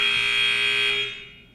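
A single harsh electronic buzzer blares as a game-show style effect, a loud steady tone holding for about a second before fading out, with no speech.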